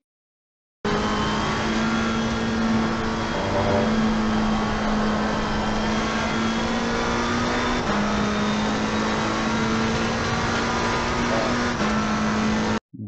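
A McLaren 720 GT3 racing car in Assetto Corsa pulls hard at full throttle, a loud steady engine note that climbs in pitch through several gear changes with no voices over it.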